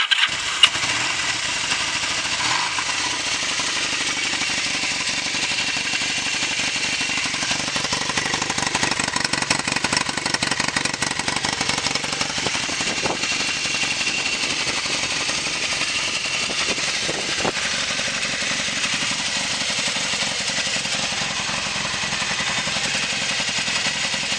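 A 1979 Kawasaki KZ750 motorcycle engine cranks and catches, then settles into a steady, close idle that runs on without a break.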